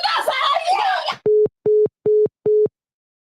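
A voice talks briefly, then a telephone line gives four evenly spaced electronic tone beeps after a call ends, loud and close with short gaps between them.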